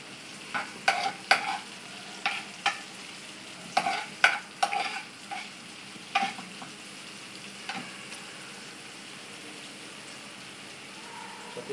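Garlic and onions fry in a pan for squid adobo while a spoon stirs them, with irregular scraping knocks over a steady, soft sizzle that continues throughout.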